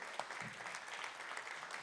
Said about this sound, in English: Keep the claps going, please.